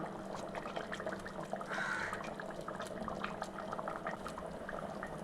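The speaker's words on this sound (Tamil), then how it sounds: "நல்லா குழம்பு கொதிச்சிடுதுங்க." Mutton curry boiling in a pot with coconut and cashew paste, a close, quiet, continuous bubbling and popping with no talking.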